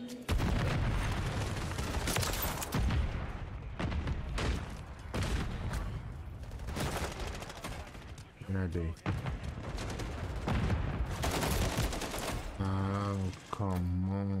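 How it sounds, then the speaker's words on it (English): In a Shipment map shooter video game, a sentry gun fires amid rapid gunfire, dense bursts of sharp shots and booms that keep going throughout, loud and close, with a player talking over the battle. "This sentry gun is so annoying."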